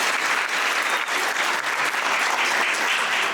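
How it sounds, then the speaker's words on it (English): A theatre audience at a Peter Pan musical claps hands continuously, a dense, even wash of applause filling the hall at steady loudness throughout, with no talk over it. "clap your hands if you believe in Tink"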